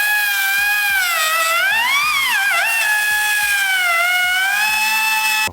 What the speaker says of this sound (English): Carl's gone to find an angle grinder.